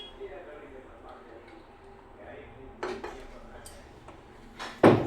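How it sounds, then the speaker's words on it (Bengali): A wok is set on a stove and mustard oil is added, giving a few sharp metallic clanks and knocks against a quiet kitchen background, with low talk underneath. "দেখো কড়াই বসিয়ে দিয়েছি, কড়াইতে একটু সর্ষের তেল দিয়ে দিলাম।"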